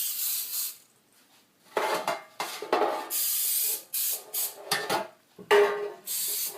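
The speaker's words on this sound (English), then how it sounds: "I'm just spraying a little bit." Cooking spray hissing onto a pan in a kitchen while making turkey meatloaf, several short close bursts separated by brief pauses, with light clinks of cookware between them.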